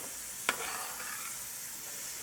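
Chopped bell pepper and onions sizzle steadily in a pan, with a brief sharp scrape of stirring near the start and a constant hiss throughout.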